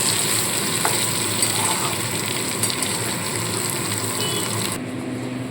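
Potato pieces fry in hot oil until reddish-brown for a vegetarian aloo dum, with a loud, continuous sizzling hiss that drops slightly near the end.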